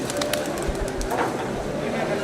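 Pigeons cooing outdoors, soft repeated coos mixed into busy ambient noise while people talk nearby.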